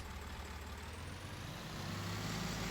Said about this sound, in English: Tractor's so much louder than the Valtra.